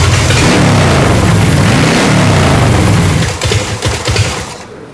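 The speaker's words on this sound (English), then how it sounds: "This thing's all spitting and popping, leaning out." Custom chopper motorcycle engine running lean and rough, a loud close uneven roar with stuttering pops and spits that break up and fade toward the end.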